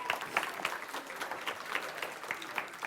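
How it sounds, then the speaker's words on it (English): An audience applauds to thank a library at a children's reading event, a steady wash of clapping hands lasting the whole moment, moderately loud and close with no voices over it. "Let's give the library one more big round of applause."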